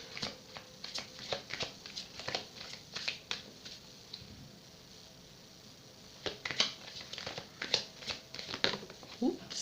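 Tarot cards being shuffled by hand, soft quick riffles and flicks close by, repeating in short bursts, with a voice speaking in between.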